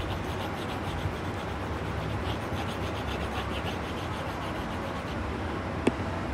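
A surface is rubbed clean in a lecture room with steady, continuous scratchy friction that stays even and fairly loud throughout, broken only by a single sharp tick near the end.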